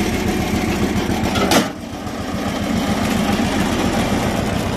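Kubota two-cylinder diesel engine on a tracked wood chipper with a roughly 70 cm blade, running at a steady, throbbing idle up close, with one brief louder surge early on.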